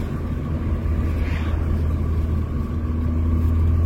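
A 1987 car rolls along with a steady low engine rumble and road noise, close and constant throughout, with no talk.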